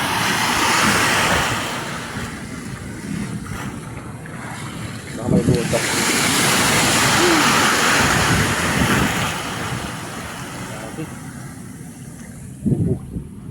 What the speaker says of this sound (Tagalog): Laki na alon, no?